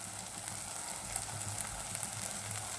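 Cumin seeds and red chili powder sizzle steadily in hot oil while mutton masala cooks, a continuous close frying hiss with faint crackles and no voices.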